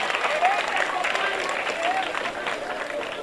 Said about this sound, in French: vos élèves méritent aussi des applaudissements